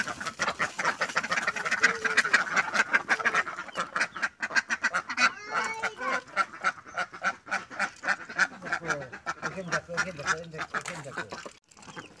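Ducks quack in a busy, overlapping flock nearby while people talk over and between the calls.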